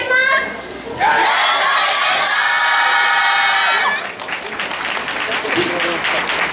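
Festival crowd at the 2015 Kobe Yosakoi Festival, Marinepia venue, claps along loudly to a yosakoi dance. Children shout and cheer and voices call out over the clapping, with a brief dip before the noise builds again.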